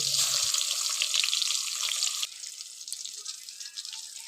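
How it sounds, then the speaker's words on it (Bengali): Pointed gourd pieces frying in hot oil in a pan, giving a steady broadband sizzle that drops to a quieter, softer crackle midway, with faint clinks and no voices. "এদিকে খোলায় তেল দিয়ে দিয়েছি, এর মধ্যে পটলগুলো ভালোভাবে সুন্দরভাবে ছেঁকে নেব লাল লাল করে"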